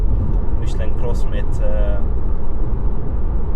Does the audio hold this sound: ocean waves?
no